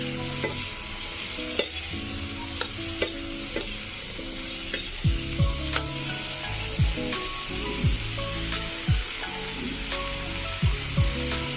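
Radish leaves and other vegetables sizzle and crackle steadily in a hot pan, with intermittent scraping stirs and clinks recurring throughout.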